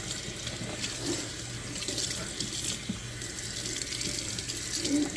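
A purse lining is washed in a sink under a running tap, with a steady near hiss of flowing water and occasional sloshing and splashing as the fabric is worked by hand.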